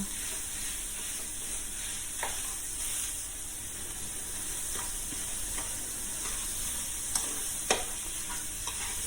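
Minced pork hisses and sizzles as it is stir-fried with curry paste, a ladle now and then scraping and tapping against the pan as it breaks the meat apart.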